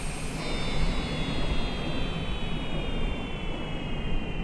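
A jet aircraft in Microsoft Flight Simulator during a Category 5 hurricane gives a steady, loud engine roar with a high descending whine, continuous and unbroken throughout, with no voices.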